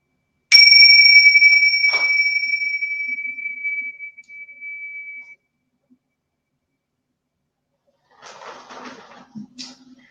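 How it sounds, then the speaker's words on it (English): A single bell is struck once, giving a bright ringing tone that decays over several seconds; a second softer strike follows and fades, then a brief rustle near the end. "I'm just going to ring this bell"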